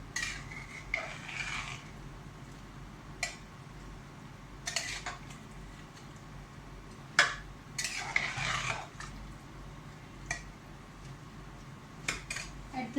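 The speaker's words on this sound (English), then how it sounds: "So now I'll just mix the rice slowly in the chicken." Rice being stirred into chicken pulao in a metal pot: repeated scraping and clinking of a spoon against the pot in irregular bursts over a soft sizzle, close and clear, with no talk.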